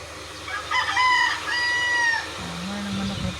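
A rooster on a fruit farm crows a long, drawn-out call, loud and fairly near, followed by lower clucking from the flock beneath steady outdoor background noise.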